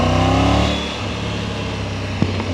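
A Triumph Tiger 900 motorcycle engine revs hard, then settles into a steady, gruff idle-like rumble, loud and close, with a brief knock near the end.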